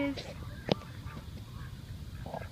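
Water birds at a lake let out a single sharp honk among faint scattered calls over quiet outdoor ambience, with soft voices in the background.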